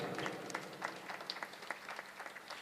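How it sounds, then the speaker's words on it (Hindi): Audience applause at a ghazal concert at Lamakaan, greeting an accompanying musician: a steady crowd of hand claps at moderate level, with no talk over it. "इनके लिए तालियां बजाएं"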